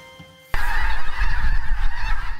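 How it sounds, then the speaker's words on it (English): Thousands of migrating snow geese at the Fort Boise Wildlife Management Area in Idaho honk together in a dense, loud, continuous chorus that starts abruptly and fills the air. "when literally thousands of snow geese fill the sky over the Fort Boise Wildlife Management Area, it's a sight to see and a sound to hear"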